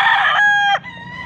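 A rooster crows loudly and close by, one full cock-a-doodle-doo call that rises, holds, then trails off.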